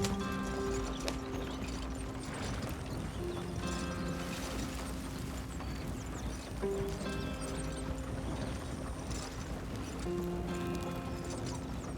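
Horse hooves from the video game Red Dead Redemption 2 clip-clop in a steady riding rhythm, mixed with creaking tack and musical tones.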